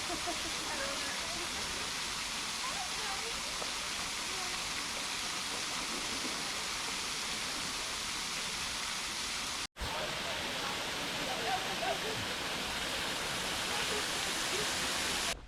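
Small waterfall in a leafy pocket of a New York City park, a steady broadband rush of falling water heard up close with no voices, briefly cutting out once partway through.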